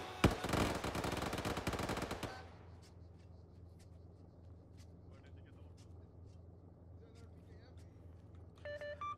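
Rapid automatic gunfire from the Arma 3 video game rattles in a dense, loud burst for about two seconds, then cuts off, leaving quiet background with scattered faint clicks and a brief sound near the end.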